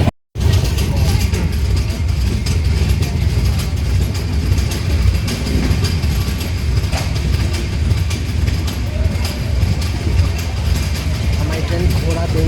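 Dakshin Express rolling into Ghoradongri railway station yard, Nagpur division, with a loud, continuous rattle, rhythmic wheel clatter and clanking couplings after a brief silence at the start.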